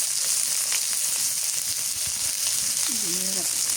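Chopped onions frying in oil until crisp like birista in a village kitchen, a constant dense sizzle heard close throughout, with a faint voice briefly in the background.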